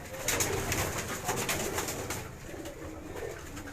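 A pigeon coos steadily at close range, a soft, low rolling murmur that carries on without pause.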